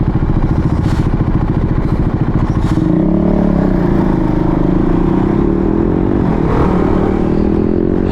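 A motorcycle rides along a road near Khaybar in Saudi Arabia, its engine droning loud and close with steady wind rush and a rising pitch as it accelerates, with no talk.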